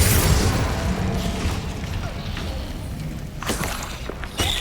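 Spell explosions in the video game Hogwarts Legacy: a few sharp bursts and booms stand out over a constant wash of in-game noise and rumble, with a louder blast near the end.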